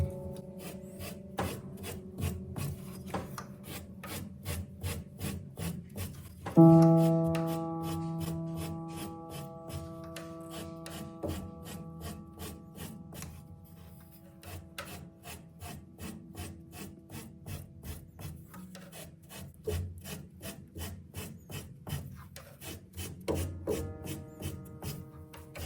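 Upright piano hammers are shaped by filing, a steady rhythmic rasp of strokes on felt and wood that runs throughout. Occasional piano notes ring out under it, and the strokes sound fairly close but quiet.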